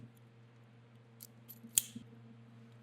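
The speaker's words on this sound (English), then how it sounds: "Make sure our chafe wrap is the same length, snip it there." Scissors snip through chafe wrap during wiring work on a John Deere 140 tractor rebuild, a single crisp, close cut preceded by a couple of faint rustles against a quiet hum.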